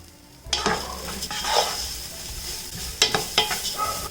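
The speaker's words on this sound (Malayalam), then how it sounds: "ഈ കട്ട് ചെയ്ത് വെച്ചിരിക്കുന്ന ഏത്തപ്പഴം ഇതിലേക്ക് ഇട്ടിട്ട് നന്നായിട്ടൊന്ന് ഇളക്കി കൊടുക്കണം" Sliced ripe plantain stirred in hot ghee in a pan: a steady sizzle with sharp scraping stirs near the start and again toward the end, close and clear, with no voices.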